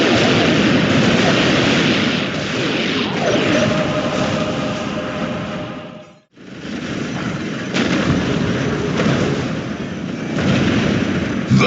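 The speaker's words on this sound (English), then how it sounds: "Initiate strafing run." Video game aircraft strafing run, a dense continuous roar of rapid gunfire and explosions that drops to a brief near-silence midway before resuming just as loud.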